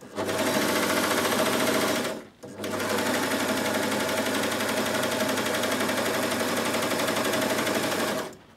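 A Bernette b62 coverstitch machine sews in two long continuous runs, a loud steady mechanical hum with a brief pause between them, close and alone without talk.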